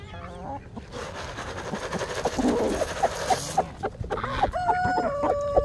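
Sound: chickens clucking

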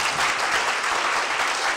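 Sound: smattering of audience applause

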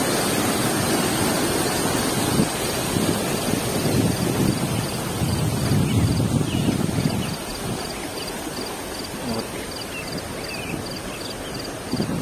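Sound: small waterfall in Sapadere canyon, Alanya

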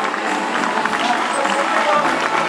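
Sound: audience applause at carnival coronation

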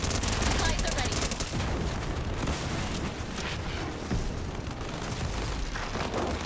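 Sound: gunfire at Doctor Doom in video game event

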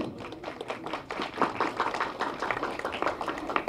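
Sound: audience clapping at a press meet

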